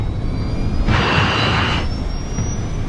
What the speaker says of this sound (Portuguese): Está nevando levemente e o DC-8 acelera até a velocidade de decolagem.